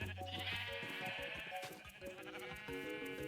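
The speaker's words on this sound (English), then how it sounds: "There's a sheep." Sheep bleating in the video game Minecraft, a fairly faint wavering bleat over game background sounds, no talking.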